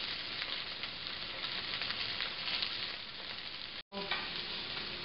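Salmon fillet frying in a pan, a steady close crackling sizzle throughout, broken by one brief dropout near the end, with no voices.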